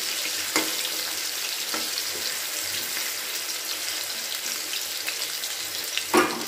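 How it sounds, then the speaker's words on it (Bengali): Potato pieces coated in salt and turmeric fry in oil with a continuous, even hiss, broken by a couple of soft clicks and a brief scrape near the end. "আলুটাকে একদম লাল লাল করে ভেজে নেব।"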